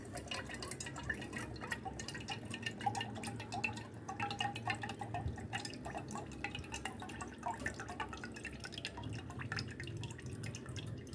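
Fresh coconut water pours from a young coconut into a glass in Taiwan, a quiet, continuous trickling and splashing that stays faint and steady for about eleven seconds with no speech.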